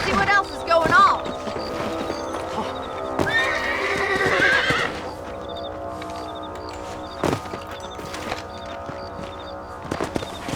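Horses in the Red Dead Redemption video game neigh and whinny with clip-clopping hooves, loud and close, amid in-game ambience, bird calls and other sounds, with a sharp whinny around the middle.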